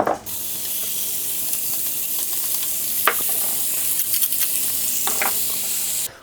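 A salt-and-pepper-seasoned steak sizzles steadily and fairly loudly in a hot pan, with a few sharp crackles and pops breaking through the constant hiss.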